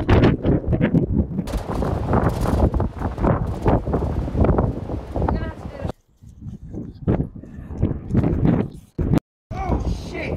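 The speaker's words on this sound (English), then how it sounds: "About 30 seconds later, the wind" Strong gusting wind at a zoo in the Welsh mountains roars across the microphone in loud, rough bursts, with voices mixed in and a sudden brief lull near the end.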